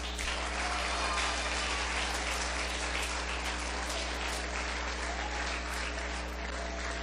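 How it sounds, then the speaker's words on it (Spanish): A church congregation claps together in sustained, even applause, moderately distant and continuous for several seconds beneath a steady low hum. "Dele un fuerte aplauso a Dios."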